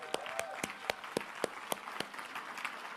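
A few people applauding at a seminar, sparse and fairly distinct claps at a steady beat, moderately faint, with a light murmur behind them.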